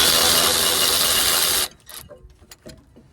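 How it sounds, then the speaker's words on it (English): A small electric ratchet wrench runs at high speed as a steady loud whir while working on Dodge Grand Caravan rear brakes, then stops abruptly and is followed by scattered clicks and light metal handling sounds. "That's why this little tiny electric ratchet wrench here works."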